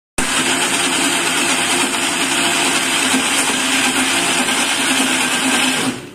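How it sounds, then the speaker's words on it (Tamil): Mixer grinder motor runs loud and steady, grinding soaked urad dal to a smooth batter in a mixie jar, a continuous high whirring drone that cuts off abruptly at the end. "ஊற வச்சதுக்கு அப்புறம் ஒரு மிக்ஸி ஜார்ல போட்டு நல்லா அரைச்சுக்கணும்"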